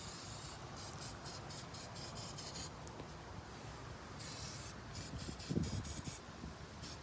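An aerosol of battery terminal protector sprays onto batteries in repeated short hissing bursts, close and soft, with brief pauses between them.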